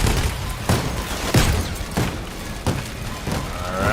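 Turret and enemy gunfire striking the player in a video game, a dense barrage of booming impacts and thuds at close range, repeating every half second or so over a constant roar.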